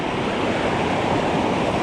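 Ocean waves wash onto a sandy beach with a steady, broad rushing hiss, mixed with wind noise on the microphone, continuous and close without any speech.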